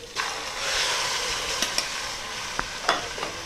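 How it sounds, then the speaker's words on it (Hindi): Chicken being browned in a pot with ginger-garlic paste for nihari, a steady close sizzle with a few sharp clinks and scrapes of a spoon stirring the meat. "अब इसमें गोश्त डाल के भूनना है ये।"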